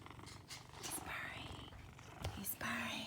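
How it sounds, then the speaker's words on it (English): A cat purrs steadily and softly up close in a home, a continuous low rumble running the whole time, with faint whispery sounds mixed in. "He's purring."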